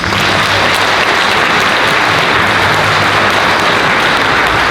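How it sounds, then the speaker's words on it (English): Dense, sustained audience applause fills a school auditorium at a sixth grade band concert, a steady loud wash of many hands clapping with no talk over it. "So let's give them a round of applause."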